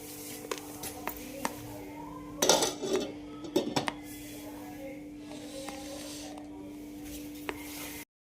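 A lid clinks onto a pot of sweet potato gulab jamun soaking in syrup, a few close metallic clatters and taps in a quiet kitchen.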